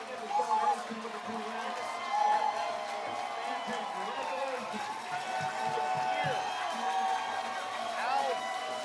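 A stadium crowd at a football game at Nassau Place Stadium cheers and whoops steadily, with an announcer talking over the roar throughout.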